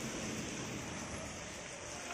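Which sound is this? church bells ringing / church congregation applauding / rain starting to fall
rain starting to fall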